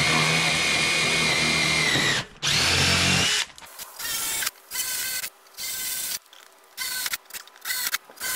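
A power drill bores into a wooden beam during post-and-beam construction, running loud and continuous for about three seconds, then in shorter start-stop bursts with brief pauses between them.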